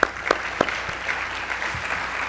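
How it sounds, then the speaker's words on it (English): Audience applause at an Ohio State agriculture celebration, a short burst of clapping from a mid-sized crowd with a few sharp claps standing out, at moderate level and fading after about two seconds. "So that's a round of applause."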